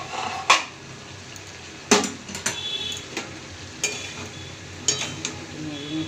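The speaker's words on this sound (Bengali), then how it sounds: "নেড়ে নিচ্ছে এবার" Food stirred in a cooking pot for a potato and chickpea dish, several separate metallic scrapes and clinks of a spoon against the pot over a faint bubbling background.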